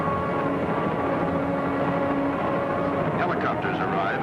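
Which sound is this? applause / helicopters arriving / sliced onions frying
helicopters arriving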